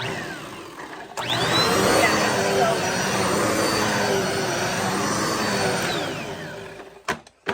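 A Dirt Devil Multisurface vacuum cleaner switches on and runs with a loud, steady whine and roar, then powers down near the end.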